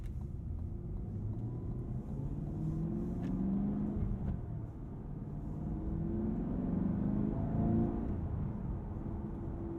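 Cadillac CT5 Blackwing, rear-wheel drive with a Tremec 6-speed manual, cruises at an easy pace around town, its engine a steady low rumble that swells gently as it pulls, heard from inside the cabin with no voices.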